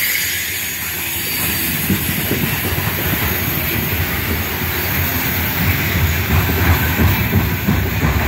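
A loaded Norfolk Southern coal train hauled by EMD SD70ACe locomotives rolls past with a steady roar of wagons and rhythmic clickety-clack from the wheels. Faint squeals come in and out, and no one speaks.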